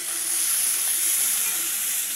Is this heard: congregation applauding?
no